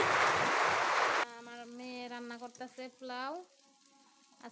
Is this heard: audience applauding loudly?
no